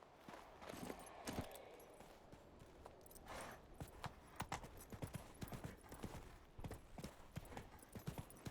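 Roach, a horse in The Witcher 3, clip-clops steadily over ground at a walking pace, hoofbeats close and fairly quiet with light ambient outdoor noise.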